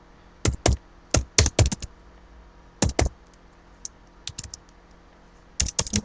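Computer keyboard typing comes in quick bursts of sharp clicks and clacks, close and crisp, separated by short pauses with no talking.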